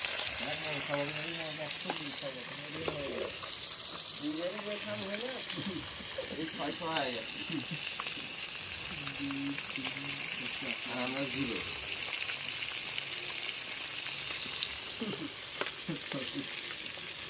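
Koi fish fries in a pan with a loud, continuous sizzle and occasional stirring, close up, while people chat over it.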